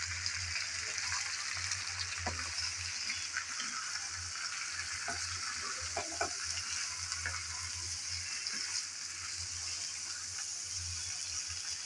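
Bamboo shoots stir-fried in a pan give a steady sizzle and frying hiss, with occasional scraping and stirring knocks of a utensil, close and moderately quiet, and no one talks.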